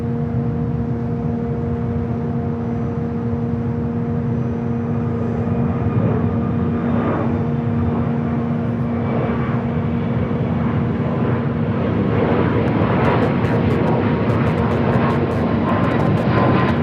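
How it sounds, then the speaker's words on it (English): A Delta Airbus A321neo in centennial livery takes off from runway 6R at Los Angeles airport, a steady jet roar with droning engine tones that grows slightly louder over the run, heard from a distance with no talk. "Delta A321neo in the 100 years livery,"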